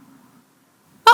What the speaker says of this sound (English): don't tell me you got the hiccups